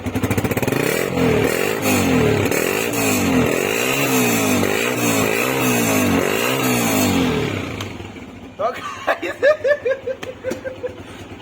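A motorcycle engine revs under throttle in rising and falling cycles, loud and close, then drops to a rough, pulsing idle near the end.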